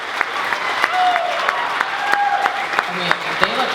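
Wedding reception guests applaud the couple with a steady burst of clapping and a few cheers filling the room, loud and close, with scattered whoops over the applause.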